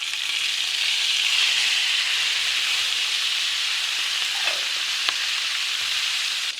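Argentine shrimp sizzle in bacon juices in a pan, giving a loud continuous hissing fry with a couple of faint clinks near the end.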